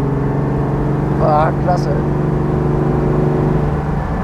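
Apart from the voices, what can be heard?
1962 Mercedes 300 SL Roadster engine running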